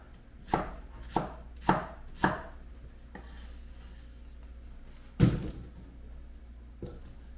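A knife cuts a pear in half on a cutting board while kimchi is being prepared: four evenly spaced dull thunks, then a louder chop and one softer knock, close up against quiet kitchen room noise.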